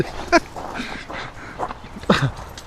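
A dog yips and whimpers in short bursts during an outdoor project with pooper scooping and greenhouse panels, a few sharp close sounds over quiet background.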